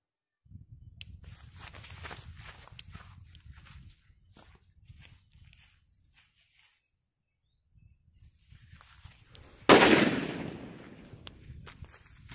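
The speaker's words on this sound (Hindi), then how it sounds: "और ये है वाडीवाल ब्रांड की बुलेट बम। तो चलिए इसकी टेस्टिंग करते हैं।" A Wadiwal brand bullet bomb firecracker is set off outdoors: soft shuffling footsteps and rustling, a quiet pause, then one sharp, loud bang that decays quickly into a fading crackle.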